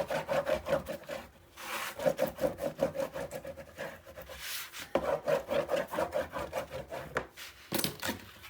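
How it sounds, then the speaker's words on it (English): Tape being burnished down by hand on a paper mini album, a close, repeated rubbing and scraping in rhythmic bursts with short pauses between passes. "Now we're going to burnish."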